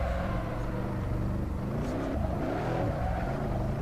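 A Nissan Skyline's engine in Assetto Corsa drones steadily under load while accelerating, a dense, continuous close-up growl with slight pitch wavering and no speech.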